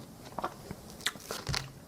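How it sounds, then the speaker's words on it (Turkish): Crunching and biting on a Minecraft-style brick eaten like a snack, several sharp crackly bites spread irregularly over two seconds, close and fairly quiet, with no talking. "Adam tuğlayı kıtır kıtırıyor."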